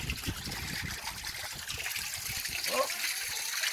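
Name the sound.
water running into a camel drinking place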